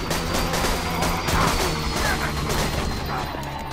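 Rapid gunfire from the video game Borderlands 2, a dense continuous barrage of loud shots with crashing impacts layered over steady game noise.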